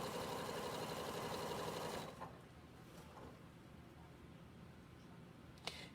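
A home sewing machine stitches fabric with cording for a reading pillow, a steady whirring buzz for about two seconds that then stops, leaving quiet room tone and a faint click at the end.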